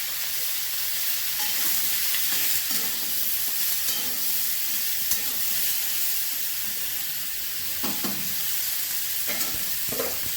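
Spinach curry with bori and green chillies sizzles loudly and hisses in the pan, a constant bright frying roar with scattered stirring scrapes; no voices.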